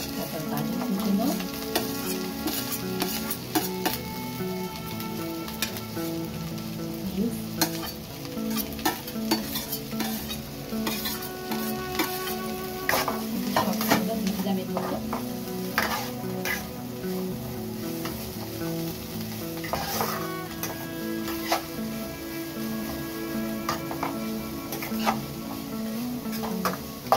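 Cabbage and chopped carrot for a vegetable stuffing stir-fry in a pan, with a steady sizzle and repeated spoon scrapes against the metal, close and continuous throughout.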